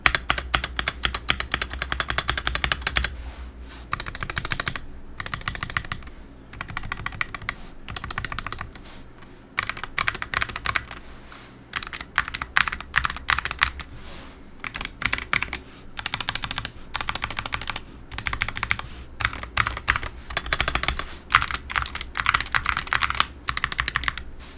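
Continuous typing on a SteelSeries Apex Pro Mini 60% keyboard: steady, close, crisp key clicks in quick bursts with short pauses, heard alone.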